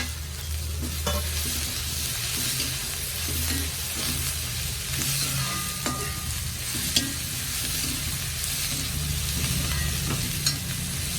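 Green chillies frying and being stirred in a pan while egg kurma is cooked, with a steady close sizzle and repeated scraping stirs throughout, no talking.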